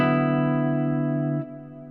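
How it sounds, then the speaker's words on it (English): Sustained guitar chord played through a Fractal Audio FM9 with deep chamber reverb for a southern rock tone, ringing loudly and then dropping sharply near the end into a lingering reverb tail, with no voice present. "For the reverb, I'm using the deep chamber."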